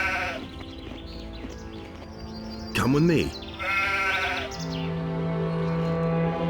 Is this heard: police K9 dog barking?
no